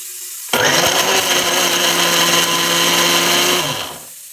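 A mixer grinder blending avocado with sugar whirs loudly and steadily for about three seconds after an abrupt start, then winds down.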